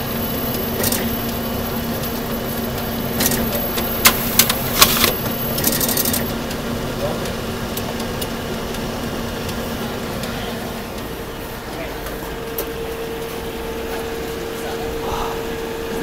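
A Fuji Xerox DocuColor 1250 colour copier runs while stuck on a bypass tray jam. It makes a steady mechanical hum with a cluster of sharp clicks and clunks early on, then a quieter tonal whir.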